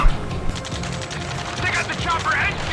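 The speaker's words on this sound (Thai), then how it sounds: "เสียงการต่อสู้ข้างล่างนี่แบบโคตรเดือดเลยฮะ" Dense battle noise in the flight combat game Ace Combat 7, rapid rattling bursts of gunfire and explosions rolling continuously at a steady loudness, with voices faintly mixed in.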